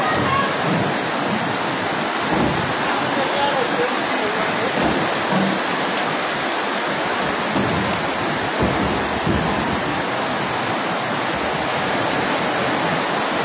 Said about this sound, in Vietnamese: Mưa to thế.